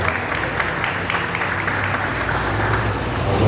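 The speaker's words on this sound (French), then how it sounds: "sous vos applaudissements" Steady applause from an audience at a gospel music event, dense and continuous clapping filling the space without pause, with no speech over it.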